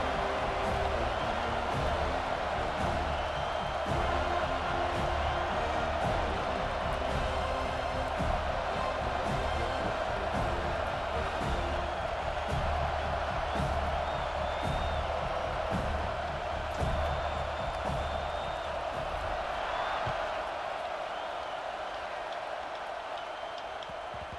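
A stadium crowd roars in a college football video game, Notre Dame at Florida State, a steady, dense wash of cheering and noise that holds for a long stretch before thinning near the end.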